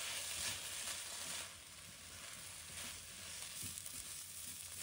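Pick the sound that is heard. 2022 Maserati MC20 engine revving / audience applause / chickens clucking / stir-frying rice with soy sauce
stir-frying rice with soy sauce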